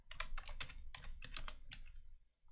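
Fingers tap a computer keyboard in quick bursts of clicky keystrokes, close and distinct, pausing briefly between clusters before trailing off into quiet.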